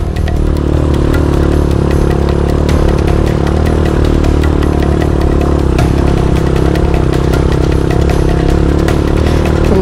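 A motorcycle climbs a steep, rough road with its engine working hard and loud throughout, the clatter of the ride close by and steady for about ten seconds, with no talking.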